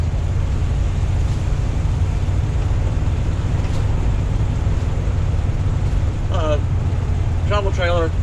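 A Coachmen RV motorhome drives along with a steady low engine and road rumble, upshifting through the gears; a voice comes in briefly near the end.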